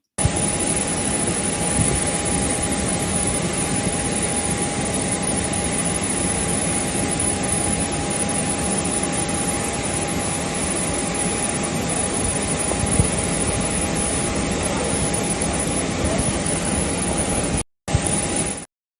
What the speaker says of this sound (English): You see that jet you saw on your screen there?